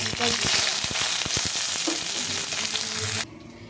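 Ground ginger and green chilli paste frying in a pan for khichuri, a loud, dense sizzle with sharp crackles and pops that runs steadily before dropping away abruptly near the end.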